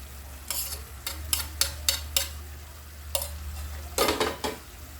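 Sweet and spicy chicken feet adobo being stirred in a pan as it simmers, with a steady low hum underneath and a series of sharp scraping and clinking strokes, loudest near the end, with no talk.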